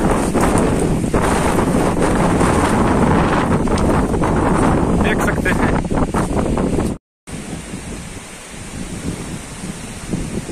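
Strong wind roars across a village at night during a sudden storm, loud continuous buffeting against the microphone that drops out briefly before gusting on at a slightly lower level.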